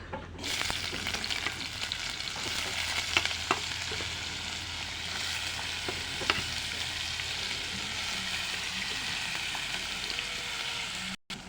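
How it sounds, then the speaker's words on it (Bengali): Potatoes and onions fry in a pan with a soft, steady sizzle while a utensil stirs them, giving occasional scraping taps; the cooking noise is fairly quiet and continuous, with no voices. "এই তো আলু পেঁয়াজগুলো হালকা ভেজে নিলাম।"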